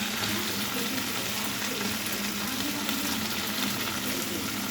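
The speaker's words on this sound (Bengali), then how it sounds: "এবার আমি দিচ্ছি অ্যাড করে কেটে রাখা টমেটো" Chopped tomatoes tipped into a pan of pointed gourd, potato and prawns frying in oil, giving a steady even sizzle that stays close and fairly quiet without any talking.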